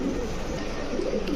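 A silver Pankhi pigeon gives a brief, low, throaty coo close by against a steady background hum, lasting just over a second with no talking.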